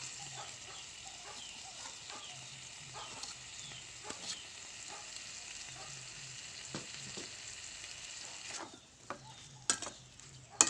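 Tomatoes frying with salt in a pan on the stove: a continuous soft sizzle and crackle with occasional stirring scrapes and light clinks near the end, fairly quiet and close, with no talking.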